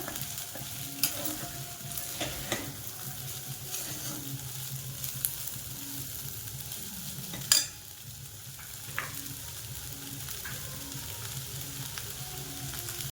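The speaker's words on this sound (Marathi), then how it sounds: "त्याला सारखं हलवत राहायचंय जरा" Steady close sizzle of food frying in a pan for a fasting meal, with occasional spoon scrapes and one sharper clank as it is stirred continuously.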